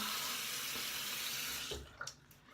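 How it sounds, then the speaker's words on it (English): Tap water runs loudly into a sink for rinsing after a shave, a close steady gush that stops partway through, followed by a few small drips and splashes. "All right, let me rinse off and we'll get to the aftershave."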